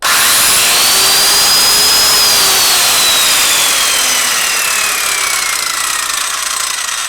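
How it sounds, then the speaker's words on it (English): A loud power tool whines continuously up close, its pitch sliding slowly up and then gradually down as it works. "So listen to what happens when I use this power tool."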